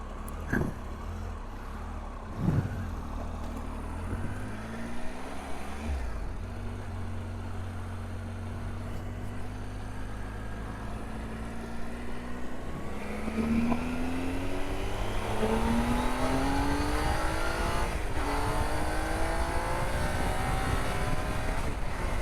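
A 2018 Triumph Tiger 800 motorcycle engine pulls through several rising gear changes, each rev sweep climbing and dropping before the next, with wind rush building as speed increases.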